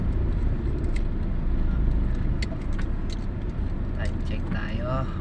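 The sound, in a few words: road traffic on EDSA Guadalupe, Manila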